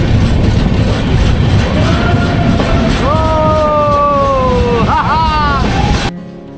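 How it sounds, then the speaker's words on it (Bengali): The Amaravathi Express train running through hills on the way to Goa, with a loud, steady rumble and clatter. Drawn-out horn-like tones sound midway before the noise drops off abruptly at the end. "আমাদের ট্রেন তো আপন গতিতে তার গন্তব্যে থেকে ছুটে চলেছে।"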